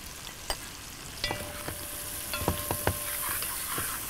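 Chopped onion with a stock cube sautéing in a pot for a creamy potato soup, a steady soft sizzle with a few faint stirring clinks and scrapes, close and without talk.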